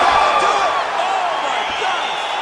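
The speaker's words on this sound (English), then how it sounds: "crowd loving it" A steady roar of a virtual arena crowd cheering in EA Sports UFC 5 after a fight-ending strike, loud and sustained without a break.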